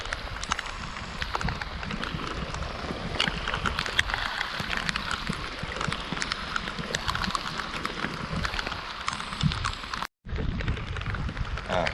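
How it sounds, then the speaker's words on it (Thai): Rain falling during a fishing trip in Thailand, a steady dense hiss of drops with small crackles and taps, continuous and fairly close, broken by one brief cut near the end. "โอ้ อันนั้นฝน"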